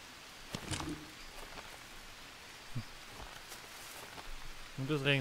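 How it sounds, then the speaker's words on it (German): Rain in the Green Hell jungle survival game, a faint steady patter of drops on leaves and ground, with a few soft rustles and brief chirps breaking through the quiet wash. "Und es regnet wieder. Schon wieder."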